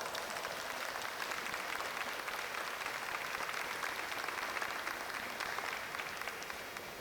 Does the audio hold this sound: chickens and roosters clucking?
no